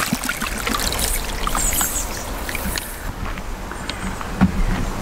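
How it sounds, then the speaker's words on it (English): Steady splashing and trickling water runs throughout, close and fairly loud, like a watering can pouring over a vegetable garden bed, with no talking. "And quickly water this bed"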